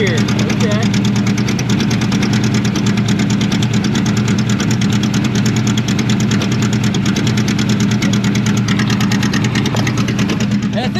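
A 1984 Chevrolet Monte Carlo race car, long abandoned, idles in gear under load with a steady, loud, slightly knocking engine drone, with talking over it.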